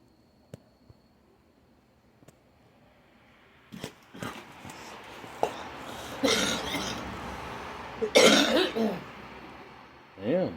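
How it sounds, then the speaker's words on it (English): A person on a porch coughs and retches, giving a cluster of harsh, raspy coughs and throat-clearing bursts that grow louder toward the end, following a few soft clicks and low murmuring. "vomited and coughed at the same time."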